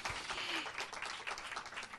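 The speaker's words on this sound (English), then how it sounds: "One more round of applause." Applause from an audience at an evening history café talk on Seattle civil rights in the 1960s, a steady dense patter of many hands at moderate, slightly distant level, filling the whole stretch without pause.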